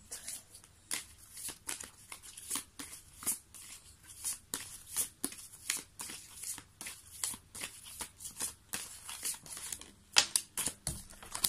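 A deck of cards is handled and shuffled close by, with a steady run of soft papery flicks and riffling taps across the whole stretch and no talking.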